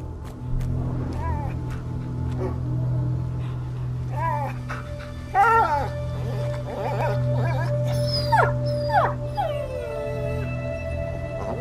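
A dog howls and whimpers in A Plague Tale: Innocence, several rising, wavering cries set over a steady low game-ambience hum, with a raised cry near the middle and more howls toward the end.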